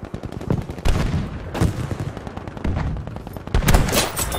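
Gunfire in the video game Battlefield V crackles in dense, loud bursts of rapid shots and heavier booms, continuous over a rumbling battlefield backdrop.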